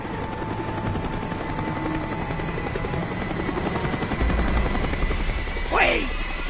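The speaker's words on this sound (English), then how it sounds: "The chopper is coming around again." Helicopter in the video game Call of Duty: Black Ops, a steady rotor drone circling overhead throughout, loud and continuous, swelling slightly near the end as it passes closer.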